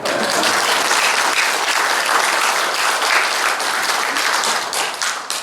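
Church congregation applauding during a testimony, a loud, dense and sustained round of clapping from many people that stays strong throughout and fades a little near the end.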